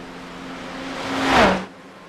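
A race car in a GTE-series racing video game sweeps past, a single pass whose engine tone climbs toward a peak and then drops sharply as it moves away.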